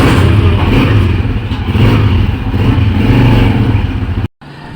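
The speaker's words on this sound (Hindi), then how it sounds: "फाइनली व्यूअर्स हमारी बाइक हो चुकी है रेडी। उस्ताद जा रहे हैं ट्राई करने।" A motorcycle, just made ready, roars close by on a test ride, its engine revving loud and steady for about four seconds before cutting off abruptly.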